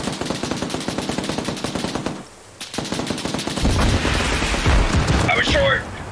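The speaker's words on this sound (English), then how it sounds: "Kyle, let's try and hit the lead and rear vehicles. Alright, opening fire." Rapid automatic gunfire in the video game Arma 3 rattles in dense bursts aimed at vehicles, pausing briefly before resuming with heavier booming shots, with a voice talking over the end.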